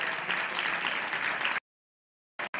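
An audience at a 2018 Christmas gala applauds a children's dance group, Chispiños, with a dense burst of clapping that cuts off abruptly, followed by a brief second snatch of applause.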